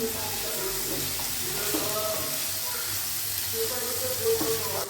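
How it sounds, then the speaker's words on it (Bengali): Chopped tomato sizzles in a hot pan as it is stirred into chicken mince for ghugni, a steady close hiss with soft scraping and clinking from the stirring running throughout. "দিয়ে দিচ্ছি একটা টমেটো কুচি। আবার একদম ভালো করে নাড়াচাড়া করে নিচ্ছি আমি"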